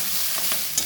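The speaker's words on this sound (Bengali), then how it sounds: "রসুন দিয়ে পেঁয়াজকলি শিম ভাজা" Garlic frying with spring onion greens and flat beans in a pan, a brief close sizzle with stirring scrapes and a small clink near the end.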